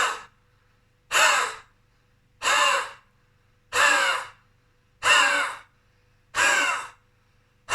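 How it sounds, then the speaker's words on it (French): Six deep, breathy exhales pushed through the throat, evenly spaced about every second and a quarter, with quiet pauses between them. "On peut le faire aussi en expirant avec la gorge, avec vraiment cette partie profonde."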